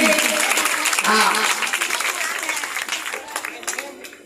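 Devotees clap together at a Bhagwat Saptah religious gathering in Faridabad, a dense steady patter of applause that fades slightly after the first second and a half, with voices mixed in beneath.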